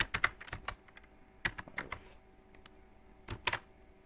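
Bangla text being typed on a computer keyboard, quick irregular clusters of near key clicks with short pauses between bursts, no voices.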